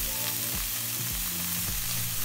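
Steady, dense sizzling of mushrooms and carrots frying in hot oil in a saucepan, close and continuous, with a few low clunks from stirring.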